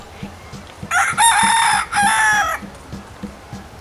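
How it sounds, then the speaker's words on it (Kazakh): A rooster crows loudly once, a long stretched call with a brief hitch near the end, over a soft, steady thumping beat in the background. "Таң атқанда әтеш кукарику деп шақырып,"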